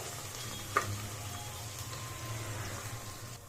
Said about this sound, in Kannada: ಹಾಕ್ಕೊಂಡು ಹಸಿ ವಾಸನೆ ಹೋಗೋವರೆಗೂ ಫ್ರೈ ಮಾಡ್ಕೊಳ್ಳಿ ಶುಂಠಿ ಬೆಳ್ಳುಳ್ಳಿ ಪೇಸ್ಟು